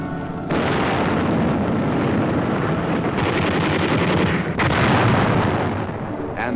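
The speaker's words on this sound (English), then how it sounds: "And heavy artillery barrages." Heavy artillery barrage from an old US Army film, a continuous roar of booming blasts with sharp onsets and rumbling overlaps, loud and dense throughout.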